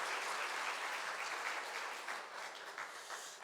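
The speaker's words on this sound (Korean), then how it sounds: "우리 다시 한번 1, 2 남선교회를 위해서 큰 축복의 박수 하겠습니다" A church congregation gives a sustained round of applause during an afternoon praise service, dense steady clapping that fills the room and tapers slightly toward the end.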